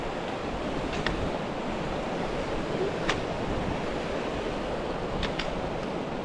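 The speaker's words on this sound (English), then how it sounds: "there's just something about the sound of water that just gives you energy" Water waves wash in a steady, dense roar on a very windy day, with wind buffeting the microphone and a few faint, brief higher sounds over the constant surf.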